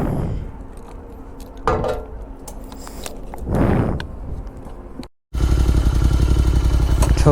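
A Royal Enfield Continental GT 650 motorcycle fitted with a Red Rooster exhaust, with handling clatter and a couple of revving swells, then a brief cutout before the engine settles into a loud, steady, throbbing idle close by.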